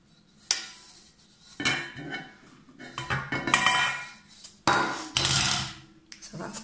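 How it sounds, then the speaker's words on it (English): A knife scrapes around the edge of a cheesecake tin and the bottom is pushed up, giving close metallic scrapes, clinks and knocks in irregular bursts, with no talk. "I generally just try and loosen it up with a knife around the edges and then push the bottom up"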